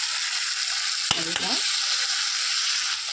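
Capsicum curry sizzling and frying steadily in a pan, with a couple of brief spoon or spatula scrapes as it is stirred, close and continuous with no talking.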